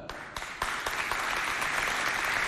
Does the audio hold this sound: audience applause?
yes